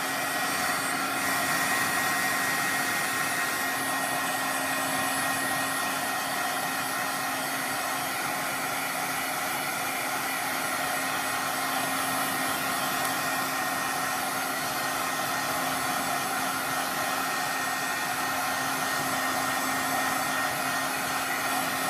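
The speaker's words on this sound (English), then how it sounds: "then we're going to get the heat tool and we're going to dry that out" A craft heat tool blowing hot air to dry Distress Oxide ink, making a steady, loud whirring hiss with a constant fan tone that stays unchanged throughout, with no voices.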